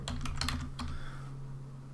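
Steady typing on a computer keyboard while entering a spreadsheet formula, a quick run of close, crisp key clicks that taper off into a quieter pause, with no talking over them.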